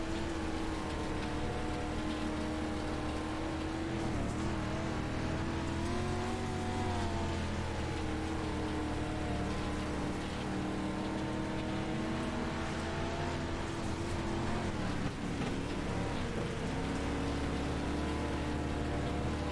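Dirt late model race cars lap the Limaland dirt track, their engines droning continuously and rising and falling in pitch as they pass, loud and sustained with a rough, gritty background and no speech.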